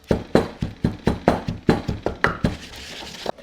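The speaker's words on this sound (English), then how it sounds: "give this a good bash just to get the garlic beat down." Repeated heavy thuds of a pestle pounding garlic and herbs in a mortar, about three per second in a steady rhythm, close and loud.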